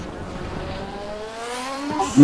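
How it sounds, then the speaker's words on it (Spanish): A Corvette race car in the RaceRoom racing game, its engine note rising steadily as it accelerates through the gears, with a sharper burst near the end and a voice talking faintly alongside. "nada más se escucha el Corvette cuando hay otros coches"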